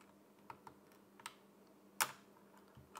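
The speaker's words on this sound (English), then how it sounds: "these keycaps do not want to come off" Keycaps being pried off a cheap £3 mechanical keyboard, a few faint sparse plastic clicks and ticks, with one sharper, louder snap in the middle, over a quiet background.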